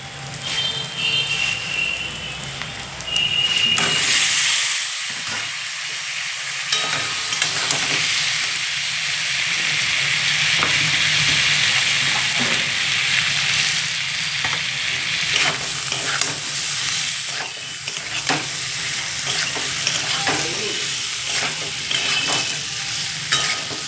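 Potatoes fry in oil with chilli powder, ginger paste and turmeric, a loud, close, continuous sizzle that swells when they go in, with repeated scraping and clatter of stirring throughout.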